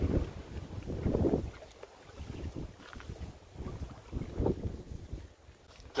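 Strong outdoor wind buffeting a microphone at an outdoor grill, rumbling low gusts that swell and ease unevenly over six seconds, with no voices.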